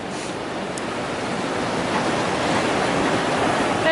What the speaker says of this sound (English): That's a big river now.